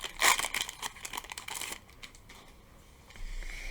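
Crinkly foil wrapper of a Pokémon booster pack is torn and crumpled open up close, with a loud burst of crackling at first, then smaller rustles fading into quiet handling.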